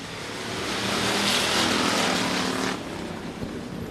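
Hobby stock and RaceSaver sprint cars roar off the start at Stuart Raceway, a dirt oval track, with a broad, distant engine rumble swelling and then easing as the pack pulls away.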